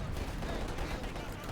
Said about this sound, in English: Got mortars there as well, providing covering fire here.